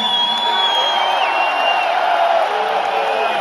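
A huge arena crowd of over 18,000 at a concert in Chicago roars continuously, a dense, distant wash of cheering and whooping with a few high whistles cutting through.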